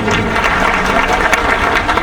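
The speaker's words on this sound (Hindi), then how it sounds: "आपके लिए तालियां बजाएं ताकि पता चले कि कौन सी खामोशी है।" Students in a lecture class clap together, a dense, loud and steady patter of applause filling the whole two seconds with no clear talk over it.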